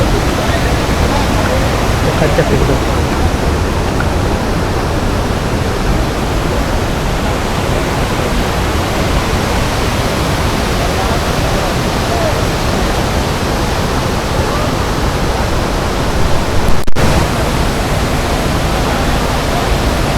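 Perennial Sherpe-Napne waterfall in Vaibhavwadi taluka, Konkan, roaring as a loud, steady, broadband rush of falling water, with a faint voice briefly under it.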